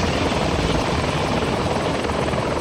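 A helicopter flies in a military video game, its rotor noise loud, close and continuous across a short stretch with no voices over it.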